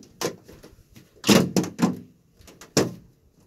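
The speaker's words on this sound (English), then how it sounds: "Okay, so the door just kind of comes off." A wooden beehouse door panel is worked loose and lifted off, giving a few hollow knocks and thumps, two heavier clunks in the middle, then a final bump.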